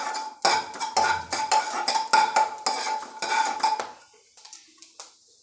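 Mustard seeds and fenugreek go into hot oil in a pan, heard as a run of sharp metallic clinks and scrapes of a spoon against the pan, close and fairly loud, fading to sparse taps.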